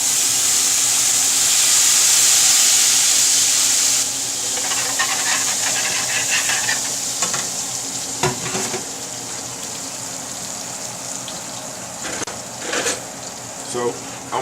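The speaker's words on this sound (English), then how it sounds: "So I'm gonna deglaze this pan." A hot pan of steaks is deglazed, a bright sizzling hiss and burst of steam that settles into a gentler crackle with scattered clinks; no one speaks.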